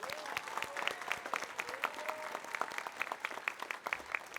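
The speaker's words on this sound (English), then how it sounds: "If we could please give them a round of applause." An audience at a city awards ceremony claps, with distinct individual hand claps that are moderately quiet and lightly scattered through a small room, plus a few faint voices.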